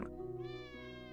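Cartoonish cats meow in the Hidden Paws video game, Christmas Islands level: a sustained, tonal kitty call with a bright harmonic stack that rises slightly midway, heard up close against a soft background drone.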